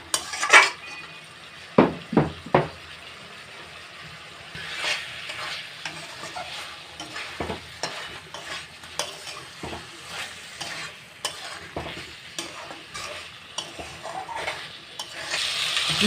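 Chicken is stir-fried in a pan until the oil separates, a steady close sizzle broken by repeated scrapes and metallic knocks of a spatula against the pan, with no talking.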